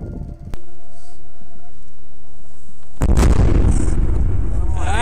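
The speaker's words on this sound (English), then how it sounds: "Soldiers of the Russian armed forces destroy shells and anti-tank mines that appear after the snow" Soldiers blowing up leftover shells and anti-tank mines uncovered by melting snow: a sharp detonation at the start, then a massive roaring blast a few seconds later with a long rumbling aftermath, loud and close.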